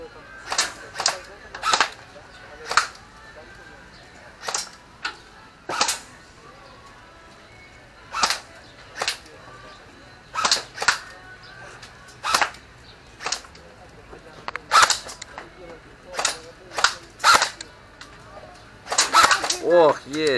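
Sharp single gunshots at a shooting range ring out one at a time at irregular intervals, crisp and moderately close, with a few quicker pairs near the end, and people talk quietly between the shots.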